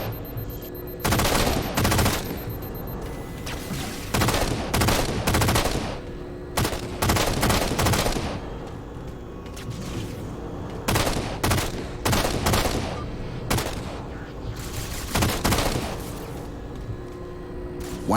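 Gunfire in the Halo 4 video game: repeated loud bursts and volleys of automatic weapons fire with booming impacts, irregularly spaced over a steady background of game ambience.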